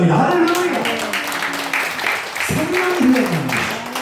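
A church congregation applauds during a Sunday worship service, with loud crowd clapping and voices calling out over it.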